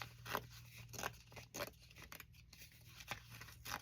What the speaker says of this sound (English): Guess I have to tear them all off.